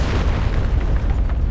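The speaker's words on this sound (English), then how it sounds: "an explosion rocks the ground from below" In the game Reverse: 1999, an explosion rocks the ground from below, heard as a deep, rumbling boom that rolls on for over a second, loud and close with no voices.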